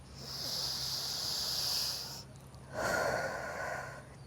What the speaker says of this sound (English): So when we breathe through our nose, belly, chest, release through the mouth